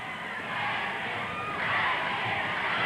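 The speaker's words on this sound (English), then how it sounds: "You hear the crowd, you know what they want." A wrestling arena crowd roars during a half crab submission hold, a distant wash of cheering and shouting that swells partway through and stays sustained.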